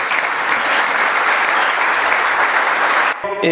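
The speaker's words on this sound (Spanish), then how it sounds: "reciban con un fuerte aplauso a José Adán Aguerri, presidente del COSEP" A business-event audience in Nicaragua gives loud, continuous applause to welcome the president of COSEP to the stage, steady clapping that cuts off abruptly as a voice begins speaking at the close.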